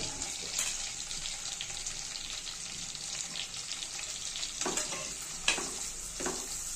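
Chopped onion frying in a pan while chivli greens are cooked, a steady broad sizzle with occasional stirring scrapes and brief clatter near the end, close and moderately loud, no talking.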